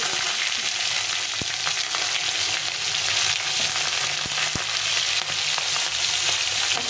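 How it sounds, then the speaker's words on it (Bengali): Cumin seeds and green chillies sizzling in hot oil, a loud, dense, continuous crackle with a few sharp pops and utensil taps, close by and without speech. "তো আমি এটা জিরে ফোড়ন দিয়ে দিলাম"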